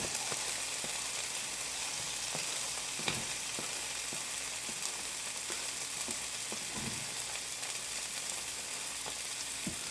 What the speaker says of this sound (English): All right, shallots, garlic in.